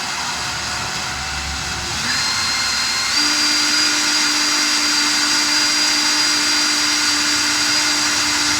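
A power drill bores slowly into the door panel of a 1975 Kenworth W924 truck, a steady close whine that steps up in pitch partway through and holds constant to the end.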